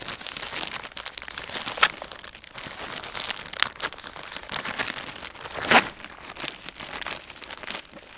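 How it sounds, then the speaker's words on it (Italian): Plastic wrapping crinkling and tearing as a package holding a Polish Army lavvu tent made of army canvas poncho sheets is opened, with continuous close rustling and a few sharper crackles. "Apriamo il pacco."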